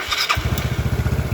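An old Yamaha Mio motorcycle with a carburetor fitted with a size 40 jet starts up after a brief crank, then settles into a steady, rhythmic putter of close, fast engine pulses.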